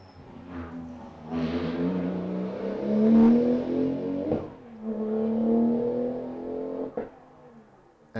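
Turbocharged Porsche sports car in a historic sprint race, accelerating hard with engine notes climbing through gears, loud in the middle and fading between shifts, with brief sharp pops; no talking.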